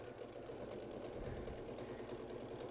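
Sewing machine backstitching the pocket of a child's splatter apron, a faint steady mechanical whir with rapid needle rhythm running continuously without talk.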